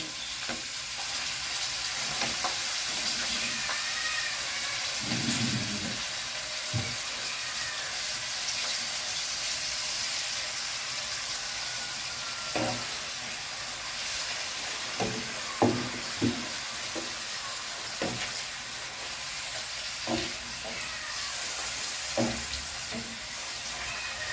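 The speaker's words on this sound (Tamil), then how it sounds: "அப்பளம் பொரிக்க போகிறேன் பேனில் எண்ணெயும் சூடாயிட்டு" Continuous loud sizzling and crackling of a papadum frying in hot oil in a pan, with occasional clinks and stirring sounds, no talking.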